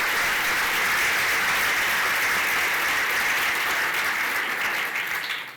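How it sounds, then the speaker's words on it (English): A breakfast fundraiser audience claps steadily in a large room, dense and sustained applause that stays loud throughout before tapering slightly at the end. "Let's give them a round of applause."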